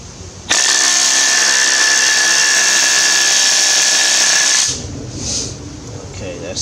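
A loud rotary hammer drill on speed 3 starts suddenly and runs at a steady high whine for about four seconds, then stops, leaving faint background noise and a light whir.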